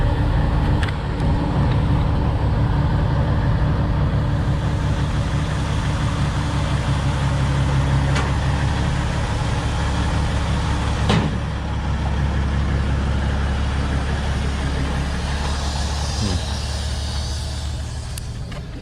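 A Freightliner Classic XL semi truck's engine rumbles steadily at idle, close and loud, as a deep continuous drone with a few faint clicks and no voices.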